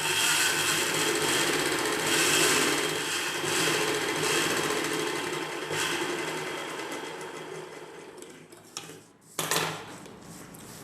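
A sewing machine stitches the hem of an umbrella dress in a continuous loud run that slows and stops near the end, followed by a short final burst of stitching.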